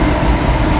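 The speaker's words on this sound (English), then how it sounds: "That's the Corby to Margam steel train." A loaded steel freight train hauled by a class 66 locomotive rolls past close by at Nuneaton, a loud continuous rumble with wheel clatter.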